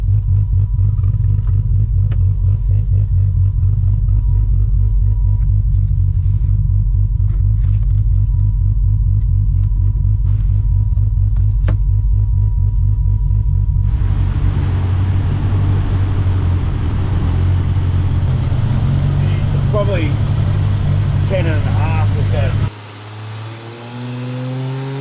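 A Barra-powered Ford Crown station wagon engine drones heavily on a dyno, holding a steady deep rumble before rising into a louder, harsher roar and then dropping away abruptly, with no talking.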